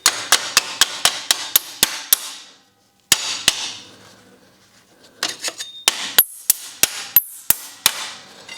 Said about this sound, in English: chipping the slag off these parts